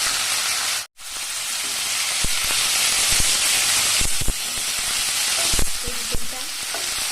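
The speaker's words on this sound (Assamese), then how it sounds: "এই গোটেইকেইটা ভাজি ল'ব লাগিব।" Potatoes fry together with banana flower and fish in a hot pan, a loud continuous sizzle broken by a brief cut, with repeated scrapes and knocks as the mix is stirred; no one talks.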